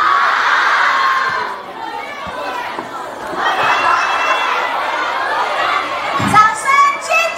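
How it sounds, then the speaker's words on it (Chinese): An audience at a music sharing event in Chengdu screams and cheers loudly, high excited shrieks and crowd chatter rising and falling in waves, with scattered claps and a fresh burst of shouting near the end. "掌声，尖叫声！"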